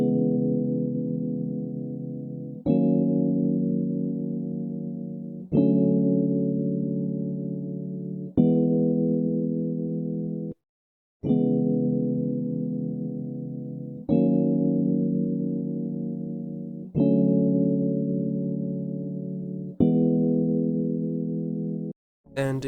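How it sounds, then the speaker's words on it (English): Layered electric pianos, a Stage 73 and a Piano Tech, play a slow soulful progression of sustained chords, each struck and left to decay, repeating in even intervals with a short gap partway, mellow and unaccompanied. "which I used two electric pianos,"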